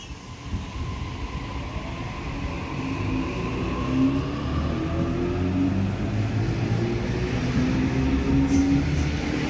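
A Sydney Waratah electric train passes through Wahroonga station with a steady, loud rumble and rolling wheel noise that builds slightly and holds for the whole stretch, with no voices.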